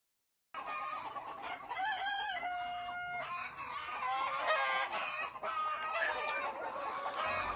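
A flock of six-month-old RIR layer hens on a poultry farm in Nalbari district, Assam, clucks and cackles continuously, many overlapping calls at close to middle distance forming a busy, steady chorus without speech.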